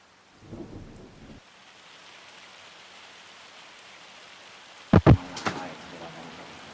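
Rain and hail in the farming video game Farm Sim 25: a steady hiss of rainfall with a short rumble early on, then two sharp loud thumps followed by a softer crack near the end.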